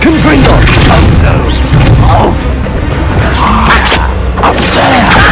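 A Confringo explosive spell goes off in Hogwarts Legacy, a booming crash with whooshing bursts in a busy combat mix, repeated blasts and impacts scattered across a few seconds.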